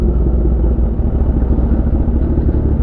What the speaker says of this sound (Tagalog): Parada na natin itong motor natin.